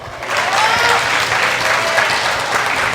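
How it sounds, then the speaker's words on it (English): An audience applauds at a health and food festival event, with loud, steady clapping from a crowd lasting the whole stretch and faint voices underneath. "Please, another round of applause."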